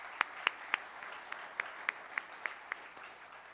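Sparse, separate claps from a small group at a Rotary Club meeting in Tulsa, about ten sharp hand claps spaced evenly and coming across faint and thin, with no talking.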